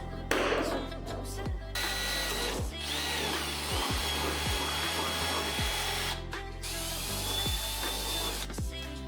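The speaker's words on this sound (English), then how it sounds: "we're gonna drill through the top layer of carbon fiber" A power drill bores through the top carbon fiber layer of a hood for Aerocatch hood pin installation, whirring steadily near the microphone for several seconds with brief pauses and restarts.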